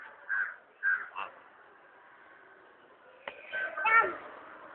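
A crow caws several times at moderate distance, harsh repeated calls early on and again near the end, while a voice and other faint speech mingle in the background.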